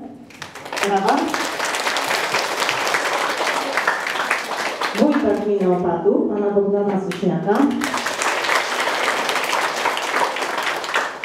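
Applause at a primary school Independence Day ceremony fills the first seconds, pauses while a man announces a guest, then swells again into dense, lively clapping from the assembled crowd.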